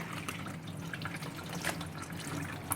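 Water sloshes and splashes continuously inside the tub of a Danby twin tub washing machine, a close, steady churning with small drips and gurgles.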